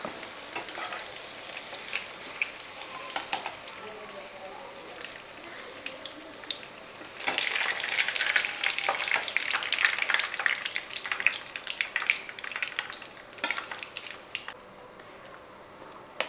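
Fish frying in hot oil, a steady crackling sizzle that swells louder midway with dense spitting pops, then eases back to a softer fry near the end; no voices.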